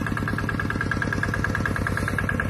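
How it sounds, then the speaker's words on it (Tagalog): A gasoline generator engine runs a water pump outdoors, its steady rapid chugging loud and close with an even, pulsing rhythm throughout. "Gasolina na lang ang kailangan no? Para sa generator ba."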